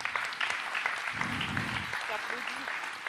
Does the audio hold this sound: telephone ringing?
no